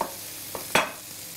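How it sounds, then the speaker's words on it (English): Four garlic cloves are cracked for a satay chicken curry, with two short, sharp crunching presses close by, the second louder, against a faint background hum. "So I've got 4 cloves here, so just going to crack them a wee bit,"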